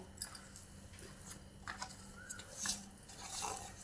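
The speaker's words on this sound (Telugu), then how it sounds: "బాగా కలుపుతున్నానండి పిండి అంతా బాగా కలిపితే ఉప్పు అంతా పడుతుందండి" Flour dough for jantikalu is mixed by hand, faint soft squishing and pressing sounds at close range, irregular and quiet against a low background hum.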